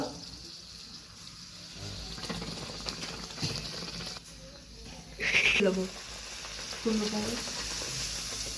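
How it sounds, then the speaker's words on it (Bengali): Beetroot luchi puffing in hot oil, a low sizzle and bubbling running throughout, with louder spatters and stirring bursts near the middle and end; a voice talks faintly underneath. "এরকম করে সবগুলো আমি লুচি ভেজে নেবো।"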